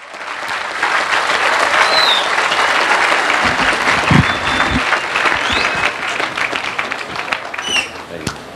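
Loud applause from a rally audience welcoming a speaker to the stage, steady dense clapping with some cheers and whistles throughout, close and full.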